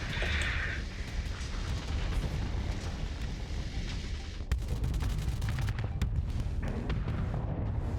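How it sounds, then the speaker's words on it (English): Ship weapons firing in the space combat game Starsector: dense, continuous volleys of rapid shots and booming impacts, with a burst of sharp cracks in the second half, loud and close with no talk. "It's just having fun watching the guns go off."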